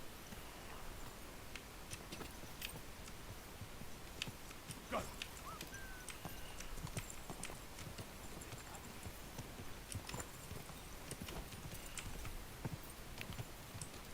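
Horse hooves clip-clop in the medieval video game Kingdom Come: Deliverance 2, a soft, steady stream of hoofbeats running the whole way through beneath a faint, continuous background hush.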